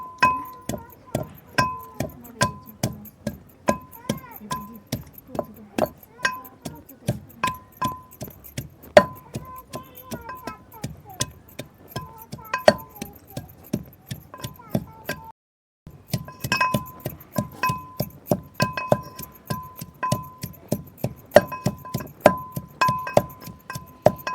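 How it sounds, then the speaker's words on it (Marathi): Onion and amla pounded in a mortar for ayurvedic oil, a steady run of sharp, clinking strikes at a quick, even rhythm, close and distinct, with one brief pause midway. "कांदा कुटून घेणार त्याच्यात एवढंच कुटणार आहे असं आवळे कुटून घेणार आहे"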